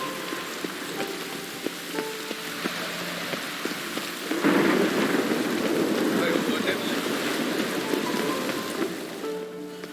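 Steady rain pours down in The Witcher 3 with a low rumble of thunder, growing heavier partway through, with a voice speaking faintly beneath.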